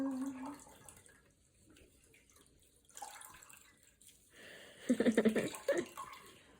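Running water rinses fabric freshly dyed with plant dye in a deep blackcurrant colour. It starts as a faint, quiet trickle, then turns into a burst of closer splashing and pouring near the end.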